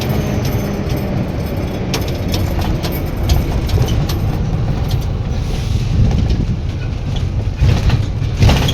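Inside a passenger bus on the road, a dense, steady engine rumble and road roar fill the whole stretch, loud and close, with faint rattles and clicks on top and no talk.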